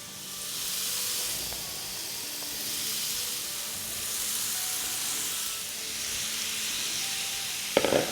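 Chicken pieces sizzling in a hot pan for a chicken mandi: a steady, fairly loud hiss of frying that swells and settles, with a short clatter near the end and no talking.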